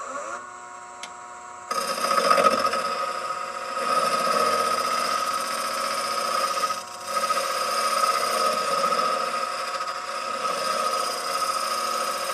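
A lathe motor whirs steadily while abrasive rubbing against spinning wood, the end of a turned wooden train whistle, adds a rough hiss, close and continuous, with a brief pause midway.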